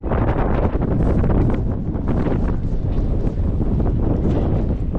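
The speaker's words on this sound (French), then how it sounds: "Un peu de vent." Strong wind in San Francisco buffets the microphone with a constant, heavy rumbling roar and no clear voices.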